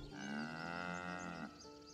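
A single long, deep moo from a cow in Baldur's Gate 3, close and clear, holding steadily for over a second before trailing off, with no talking.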